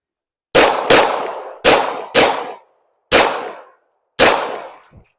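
Five close, loud gunshots fired in a defensive shooting drill, two quick pairs then a single shot, each sharp crack followed by a short ringing decay, with a faint extra thump at the very end.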